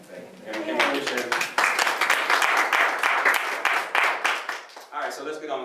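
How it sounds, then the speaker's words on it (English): A church congregation claps in a dense, continuous patter that runs under lively talking and cheering voices. "Y'all clap for anything."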